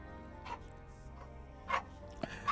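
A pet dog heard faintly in the background giving a few short, spaced barks and yips over a quiet room tone.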